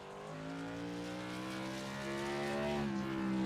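Modified race cars at Southern National Motorsports Park in iRacing, a steady rising engine drone with layered tonal harmonics, as several cars roar together at moderate volume and build gradually.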